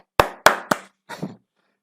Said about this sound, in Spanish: Como están todos muteados, aplaudo yo.